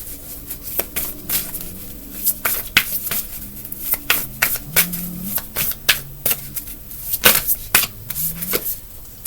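A deck of tarot cards is shuffled by hand at close range, with repeated sharp riffles and flutters in an uneven rhythm over about nine seconds.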